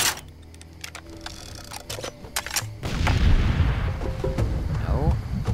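A loud explosion in Far Cry 2 bursts out partway through, after a stretch of scattered gunshots, followed by a lingering rumble and crackle in a forest setting.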